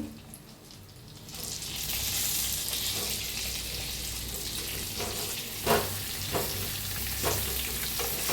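Bitter gourd fries with turmeric and red chili in a pan, a steady close sizzle that swells after the first second, with a few sharp scraping stirs of a spoon near the end.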